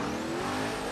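A 1978 Ford RS 1800 in the Forza Horizon 3 video game roars briefly at high revs, a bright dense engine buzz with faint tire noise, close and loud with no talking.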